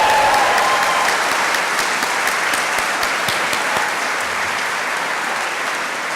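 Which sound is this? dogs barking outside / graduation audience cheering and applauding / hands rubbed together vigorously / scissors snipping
graduation audience cheering and applauding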